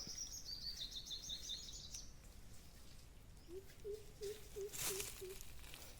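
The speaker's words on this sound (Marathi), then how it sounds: "पक्षी पण बोंबाटत आवाज येतात" Birds call outdoors in a mango orchard near forest: a run of high repeated chirps, then a lower series of short whistled notes, over steady background noise, with faint voices.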